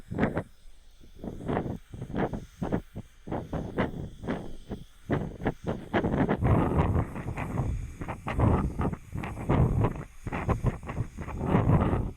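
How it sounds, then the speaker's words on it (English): Wind buffets the microphone of Sony WH-1000XM6 headphones outdoors during a wind test, coming in repeated loud rumbling gusts that surge and drop, growing denser and steadier after the first few seconds, with no talk. "All right, now the wind test."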